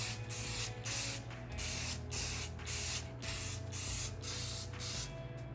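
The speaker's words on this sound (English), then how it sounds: "Glazing's dry, we're ready for the final clear coats." An aerosol can sprays final clear coats onto a wooden heart-shaped photo locket in a series of about six steady hissing bursts with brief gaps between them, close and alone.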